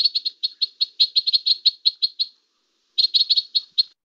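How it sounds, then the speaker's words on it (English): White-winged crossbill calls: a rapid series of bright, clipped chirps in two bursts with a short pause between, clear and fairly close with no other sounds. "A lot of people don't know that vocalization for white wing."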